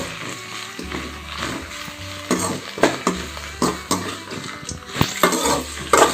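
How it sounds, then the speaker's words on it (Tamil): Curry leaves and a couple of handfuls of washed coriander sauté in a pan for a curry coriander gravy, with a soft sizzle under repeated close scrapes and knocks of a spoon against the pan. "நல்லா வதக்கிக்கோங்க"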